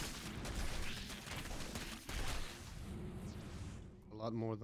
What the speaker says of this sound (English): Lovely, lovely explosions.